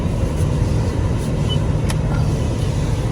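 A 2022 Toyota 4Runner TRD Pro engine runs at a steady, close, fairly loud hum and idle with no other sounds.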